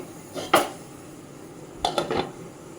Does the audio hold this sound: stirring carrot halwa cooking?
yes